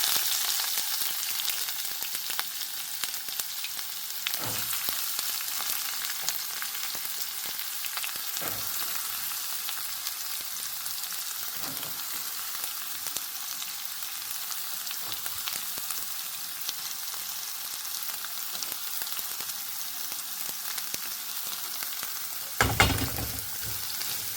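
Onions fry in oil with whole spices such as cardamom and cloves for a restaurant-style paneer dish, giving a steady, close hiss and sizzle throughout, with a few brief clatters of stirring and a sharper scrape near the end.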